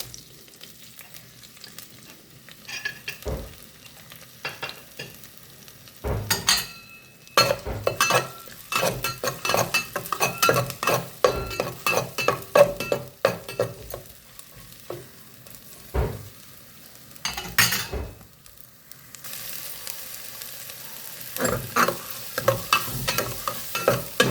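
Crushed ginger and garlic with ground spices sauté in a pan, giving bursts of sizzling and scraping stir strokes with metallic clinks between short quieter gaps, then a steadier hiss near the end.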